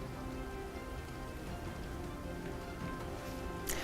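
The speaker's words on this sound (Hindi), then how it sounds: "दिल्ली समेत एनसीआर के कई हिस्सों में आज सुबह झमाझम बारिश हुई" Heavy monsoon rain falls on a morning in Delhi, a dense, even hiss of drops on surfaces that continues without a break and without any voices.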